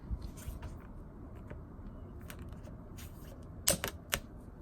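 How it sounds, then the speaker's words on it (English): A handful of faint scattered clicks and taps from a picture frame being opened, followed by a couple of sharper clicks near the end over a low background. "I'm going to go and open up the picture frame."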